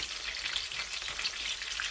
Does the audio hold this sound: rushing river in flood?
no